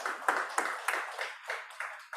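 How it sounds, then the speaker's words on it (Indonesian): A church congregation claps its hands together in a steady rhythm during a worship service, the repeated sharp claps somewhat faint and heard on their own. "Berikan tepuk tangan bagi Tuhan Yesus Kristus"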